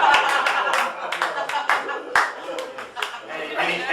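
An audience at a stand-up comedy show claps in scattered, uneven bursts, individual hand claps standing out over a thinner background patter, with sharp near claps and fluctuating loudness.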